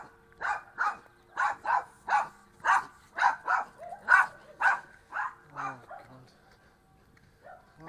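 Several dogs bark in a steady run of about fifteen loud, evenly spaced barks close by, then trail off into a couple of softer yips near the end, with no one speaking.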